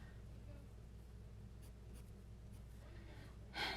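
A pencil shades red hair on paper in a drawing, making a faint, steady scratching under quiet room noise, with a louder brush or rustle at the end.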